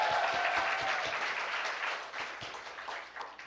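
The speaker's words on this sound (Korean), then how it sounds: "학생들이 많아서 그런가 환호 소리가 남다른 것 같습니다" Many students applaud and cheer at an education policy forum in Uiwang, a dense, steady burst of clapping filling the room and slowly tapering off.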